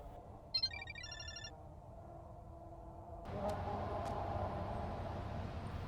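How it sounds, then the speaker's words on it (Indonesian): A mobile phone ringtone from a neighbouring balcony in the video game Parasocial plays briefly as a faint, electronic melodic trill, then gives way to a louder, steady low background hum with a couple of soft clicks. "Nina akan mendengar nada dering HP Asuka yang terdengar dari balkoni sebelah."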